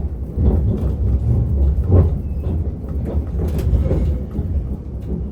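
A Greater Anglia Aventra electric train pulling out of London Liverpool Street, heard from inside as a loud steady low rumble with faint clattering over the rails.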